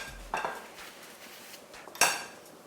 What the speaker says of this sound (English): Then we stir it together.